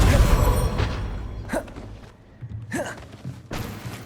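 A Confringo blasting spell cast repeatedly in the Hogwarts Legacy video game on PC, heard as several sharp rising whooshes with dull thuds over a rumbling game soundscape.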